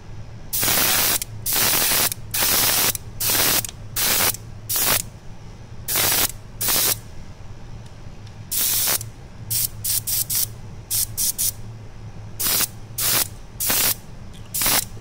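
Short and long bursts of airbrush spray hiss as paint is sprayed onto a window frame, repeated in an irregular on-off rhythm over a low steady compressor hum, close and fairly loud.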